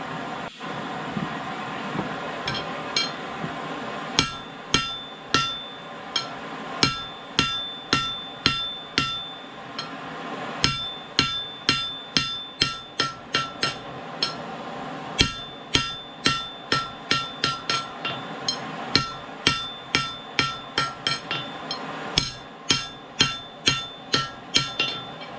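A hammer strikes a hot steel chisel on a cold anvil in close, ringing blows. They come slowly at first, then in quick regular bursts, over a low background hum.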